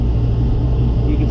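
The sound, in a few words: 2016 Chevrolet Silverado truck engine running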